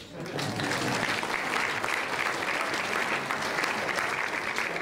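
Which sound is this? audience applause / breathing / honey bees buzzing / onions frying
audience applause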